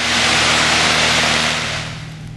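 Light aircraft engine in cruise flight at about 2,000 feet, a loud, steady broadband drone with a low tonal hum that eases slightly toward the end as revs are reduced.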